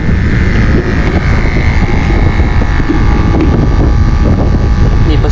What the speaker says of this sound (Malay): Angin kuat geng petang ni.